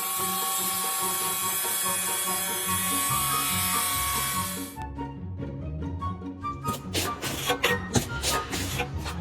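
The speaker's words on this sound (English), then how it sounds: "With this machine, cutting concrete is now much easier and safer." A concrete-cutting machine at a construction site, first a steady high-pitched grinding whine, then broken, rattling scraping and clanking bursts as the cut continues.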